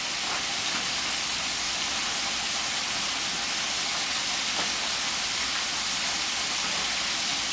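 Cube steak pieces fry in hot grease in a pan, giving a steady, loud, continuous broadband sizzle and hiss with no break from start to finish, with no voices over it.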